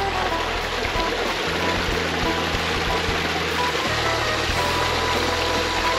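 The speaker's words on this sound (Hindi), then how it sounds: "ये पानी सीधा पूरे गार्डन में से गुजरता है।" Water rushing steadily through a stone channel in the Mughal Wah Gardens in Pakistan, a broad continuous wash with a low mechanical hum and faint tonal hints underneath.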